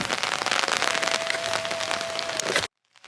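Steady heavy rain falls at Borobudur temple in Indonesia, a dense continuous hiss close by that cuts off abruptly near the end.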